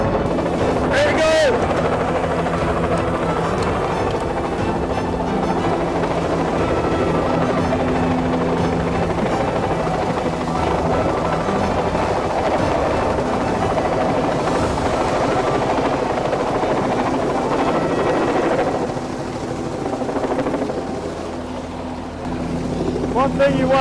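A helicopter roars steadily close by, lifting a cabin off a boat in a remote Alaskan cove. The loud rotor and engine drone runs continuously, with voices talking faintly underneath.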